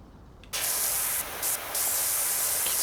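Power washer spraying in the video game PowerWash Simulator 2: a sudden loud, harsh hiss starts after a quiet moment and holds steady, briefly dipping twice before resuming full force.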